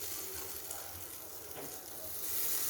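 Seasoning frying in a generous amount of hot oil for a lentil and banana flower stir-fry, a steady close sizzle and crackle running throughout with no talk.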